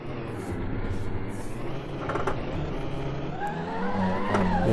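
A Ferrari F1 car slides through donuts on grass, its engine droning loudly and steadily with rising revs and a whining pitch, heard continuously and close with no talking.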